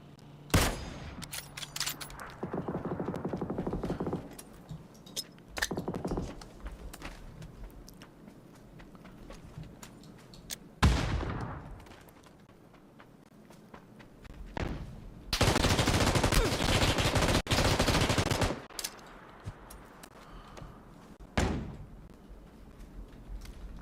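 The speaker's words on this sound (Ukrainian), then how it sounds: "я вистрілюю всі" Bursts of rapid gunfire and sharp single shots in PUBG, some loud and close, with a long sustained volley partway through and quieter gaps between.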